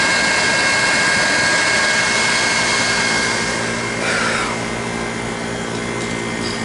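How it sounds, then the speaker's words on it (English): Steady whirring of the small cooling fan inside a Harbor Freight 80 amp DC arc welder, a continuous broadband rush with a faint tonal whine, easing slightly in level partway through, with no talking. "It's even got a little fan here in the back to cool it off."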